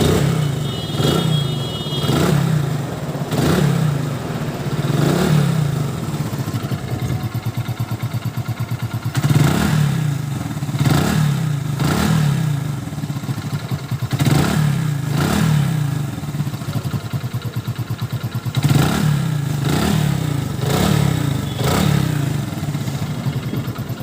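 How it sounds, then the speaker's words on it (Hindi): A motorcycle engine fitted with a newly installed carburetor is kick-started and then runs up close, with repeated rhythmic revving surges and mechanical clatter over about twenty seconds. "इग्निशन ऑन किया और बाइक को स्टार्ट मारेंगे"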